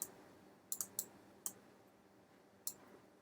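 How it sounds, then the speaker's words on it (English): Sharp, dry clicks of a computer mouse in a quiet room, several brief taps including a quick close pair like a double-click, spaced unevenly over a few seconds with faint background hiss. "I could just double click on it, and it will open it here"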